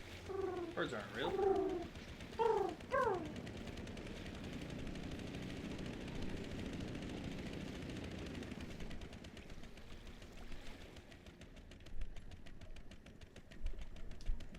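Pigeons cooing in the video game Indiana Jones and the Great Circle, several soft rounded coos in short bursts early on over a low ambient rumble, then fading into quieter background texture.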